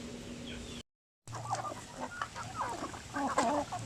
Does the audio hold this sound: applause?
no